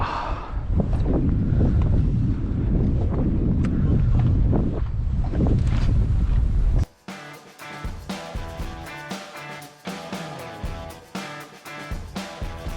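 Wind buffets the microphone on a fishing boat on Chesapeake Bay with a loud, continuous rumbling roar for about seven seconds, followed by quieter, choppy, uneven sounds.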